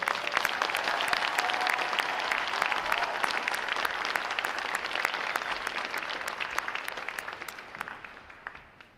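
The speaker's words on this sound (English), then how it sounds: "How about a round of applause for their performance today, folks?" A graduation crowd at a Navy boot camp ceremony applauds steadily, a dense wash of many hands clapping at close range that holds strong and then fades toward the end.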